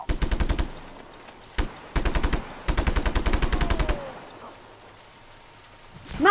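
Mounted .50 caliber machine gun in the Just Cause 3 video game fires several loud, rapid bursts separated by short pauses, then falls quiet with a faint whine before another sharp blast at the end.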